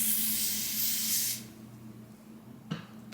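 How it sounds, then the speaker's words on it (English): Lace spray from an aerosol can hisses in a steady burst for over a second during a 13x6 HD lace front wig install, then cuts off, leaving quiet room tone and a faint knock. "spray some lace spray right here."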